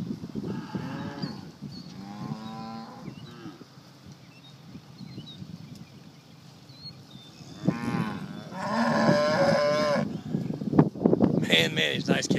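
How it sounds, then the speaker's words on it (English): Several Braford ranch cows and calves moo loudly and repeatedly, some calls long and drawn out, with outdoor background noise and no speech between them. "Big stout group of nice ranching cows."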